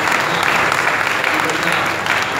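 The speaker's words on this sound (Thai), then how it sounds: "เสียงปรบมือดังๆหน่อยครับ" Church congregation applauding loudly to welcome new members during a service, a dense, sustained burst of clapping from a crowd lasting the whole moment.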